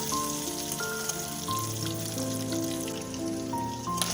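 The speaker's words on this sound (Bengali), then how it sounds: "একটু লাল লাল করে ভেজে নেব, খুব বেশি কড়া করে ভাজবো না" Duck eggs, slit so spices can enter, frying in hot oil in a pan, a steady close sizzle and crackle running throughout with no talking over it.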